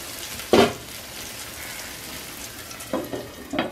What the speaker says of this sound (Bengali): চুলার আঁচ একদম কমিয়ে